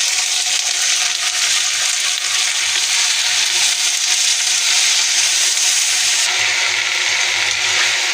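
Potatoes and greens fry in a salted pan with a loud, continuous sizzle and crackle that holds steady from start to finish, with no voices.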